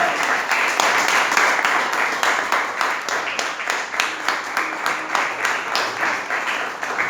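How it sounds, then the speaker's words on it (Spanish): Applause from a church congregation, a dense wash of many hands with rhythmic unison clapping emerging and pulsing steadily, loud and close, with no voices over it. "¿Le dan aplauso al Señor?"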